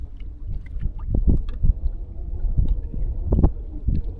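Strong gusty wind at a sheltered seaside cove near Ayvalık buffets the microphone in low, rumbling bursts that rise and fall steadily, with no voices.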